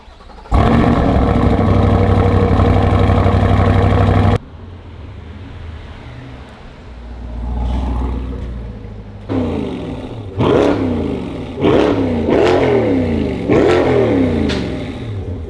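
A C8 mid-engine Corvette with an AWE Catback Touring Edition exhaust, close and loud: a sustained steady roar, then a lower idle, followed by a series of sharp rising revs that fall back between blips.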